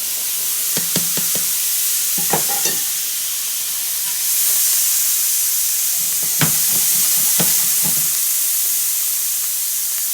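Vegetables tossed into a hot frying pan for a lamb tapas dish give a loud, steady sizzle and hiss, broken by a few clattering stirs and pan knocks, with no talk.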